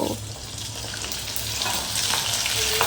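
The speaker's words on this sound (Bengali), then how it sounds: "এই একই রকম করে কিন্তু সবগুলো চালই ভেজে নেব" Basmati rice fries in hot oil with a steady, close sizzling hiss and occasional light stirring, with no voices.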